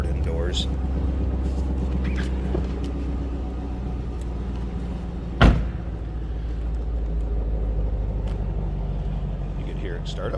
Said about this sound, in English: You can hear it start up. Has a little bit of bark. Nice sounding car.